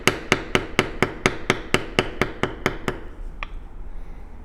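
A mallet strikes a bevel tool on leather in about twelve sharp, evenly spaced taps, close and crisp, then stops, leaving faint room noise.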